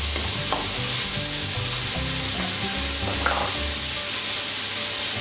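Diced, peeled, seedless tomatoes hit a hot frying pan and sizzle loudly and steadily, with stirring scrapes over the constant hiss.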